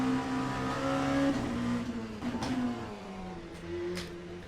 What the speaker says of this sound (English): I need to be very careful with the downshifting, especially the double downshifting like I just did.